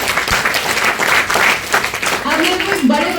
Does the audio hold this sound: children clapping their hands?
yes